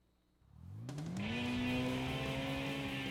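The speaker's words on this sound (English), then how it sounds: "The car even sounds totally different. Makes some good noises." A car engine in the PS2 racing game Tokyo Xtreme Racer 3 revs up from quiet and climbs to a loud, steady drone, with a rising pitch that levels off and holds, and no talk over it.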